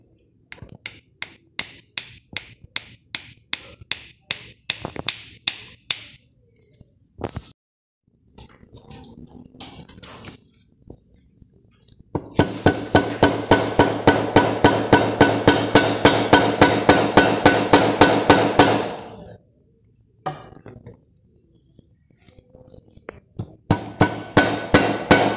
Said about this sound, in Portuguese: E dá umas batidinhas com o martelo.